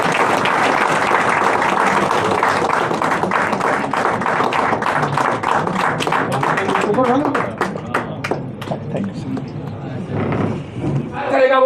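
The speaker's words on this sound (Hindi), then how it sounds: "अरे ताली जोरदार बजाओ सब" A crowd at an SC ST Federation gathering claps loudly, dense and energetic at first, then thinning into scattered individual claps before tapering off, with voices mixed in.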